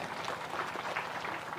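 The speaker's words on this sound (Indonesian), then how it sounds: "Tepuk tangan lagi." An audience applauding at a religious lecture: a brief, dense, even patter of many hands clapping at moderate volume.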